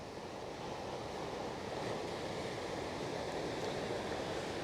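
Surf rolls in at Kanyakumari beach, where the Arabian Sea, Bay of Bengal and Indian Ocean meet, a steady broad wash of waves with wind buffeting the microphone and no voices.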